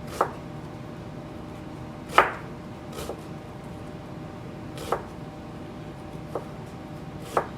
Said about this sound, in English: My knife is really sharp and I could do this a lot faster, but I'm trying to be a little precise.